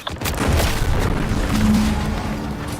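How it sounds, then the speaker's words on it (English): A deep explosion booms in the video game The Outer Worlds 2, a loud low rumble that rolls on and lingers for a few seconds, with no talking over it. "What's that? An explosion?"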